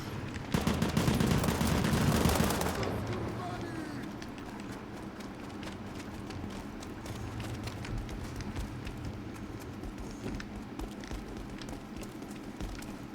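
Rapid bursts of gunfire crackle through a firefight in the video game World War 3, loudest and densest in an opening burst of a couple of seconds, then fading to scattered, more distant shots under ambient battlefield noise.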